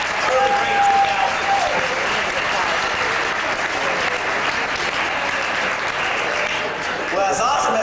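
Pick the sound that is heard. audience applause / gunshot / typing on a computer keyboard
audience applause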